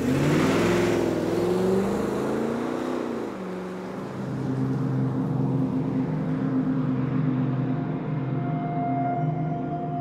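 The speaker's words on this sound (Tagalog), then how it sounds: "Ipinasok niya sa naghihintay na kotse ang baby at humarurot sila paalis." A car engine revs hard and pulls away, loud and close at first, then dropping to a lower steady hum as the vehicle speeds off.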